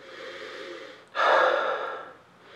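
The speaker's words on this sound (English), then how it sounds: "you'll notice that I'm sniffing pretty deeply and gusting sighs out" A deep nasal sniff of Pinot Noir wine aroma during a tasting: steady breathy airflow, a brief pause, then a louder, stronger inhalation that fades away, close to the microphone with no talking.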